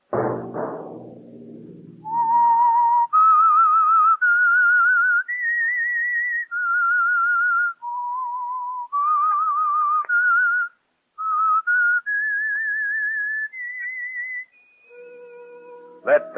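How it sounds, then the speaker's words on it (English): A lone melodic whistled theme for the radio mystery program The Whistler, a slow tune of sustained, slightly wavering notes rising and falling in clear phrases, loud and close after a brief opening rumble. "Let that whistle be your signal for the Signal Oil program, The Whistler"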